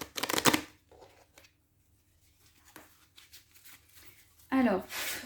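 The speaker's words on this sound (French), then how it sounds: "on va aller piocher 2-3 cartes du Line of Love encore pour éclairer ce" Oracle cards from a Line of Love deck being drawn and shuffled, with a quick papery riffle at the start and another near the end, softer card handling between, and a person talking intermittently.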